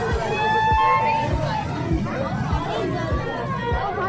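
A dense babble of many voices from a packed crowd runs continuously, with a regular thumping underneath and no single voice standing out.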